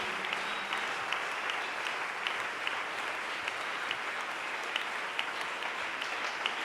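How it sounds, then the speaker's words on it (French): A church congregation applauds Jesus, a steady roomful of clapping that holds at an even level throughout, with scattered sharper claps standing out. "Merci de bien acclamer Jésus"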